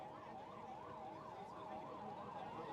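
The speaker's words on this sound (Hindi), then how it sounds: "ये एम्बुलेंस को जगह देना भाई, जो एम्बुलेंस आ रही है" An ambulance siren approaches through a crowd at a nomination rally in Rohtak, its steady rising-and-falling wail repeating faintly from a distance.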